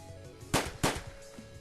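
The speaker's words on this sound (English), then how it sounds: "Reza was quick with his aim, shooting both Maverick and Bryce twice before pointing his gun in my direction." Two sharp gunshots ring out in close succession in the visual novel game Angels With Scaly Wings, loud cracks with short decaying tails over quiet background.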